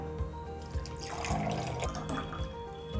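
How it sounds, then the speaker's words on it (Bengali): Star fruit juice pours steadily into a container, a continuous liquid splash with faint clinks at the start, lasting about three seconds. "এবার জুসটাকে ঢেলে দেবো"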